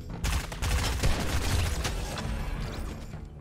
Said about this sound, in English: Hearing shots, though